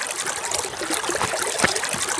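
A forest stream trickles and gurgles continuously nearby, its water babbling with small splashes and no voices.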